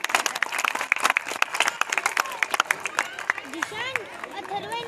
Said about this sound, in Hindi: एक बार जोरदार तालियां हमारे प्रजापति भाई साहब के लिए।